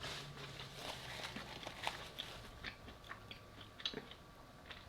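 Broccoli chewed close to the mic during a mukbang meal of beef and veggie fried rice, soft repeated crunches and wet bites in an irregular rhythm, quiet overall.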